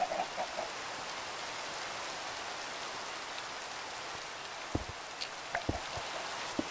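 Continuous rain hiss in the Minecraft video game, a steady broadband patter at even volume, with a few brief soft thumps and clicks near the end and no voices.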